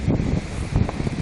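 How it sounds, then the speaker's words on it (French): Strong gusting wind outdoors buffets the microphone, a steady, loud low rumble with surging gusts and no voices. "beaucoup de vent aujourd'hui"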